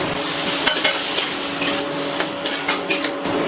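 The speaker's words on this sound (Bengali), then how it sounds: "এবারে খুব ভালো করে সব কিছু আবারও মিশিয়ে নিচ্ছি।" Ridge gourd with turmeric and salt is stirred in a pan on the stove, a steady scraping and shuffling of spatula against metal with soft sizzling underneath and several sharper knocks, close and fairly loud.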